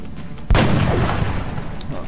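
A single sharp gunshot cracks out in the video game XCOM, followed by a rumbling decay over a faint background hum.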